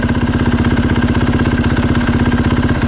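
A KTM 450SXF four-stroke motorcycle engine idles with the clutch pulled in, a steady close and loud rapid low thumping pulse running alone with no voices.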